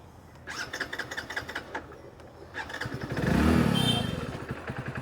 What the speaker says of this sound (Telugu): ఒకసారి బండి అయితే స్టార్ట్ చేద్దాం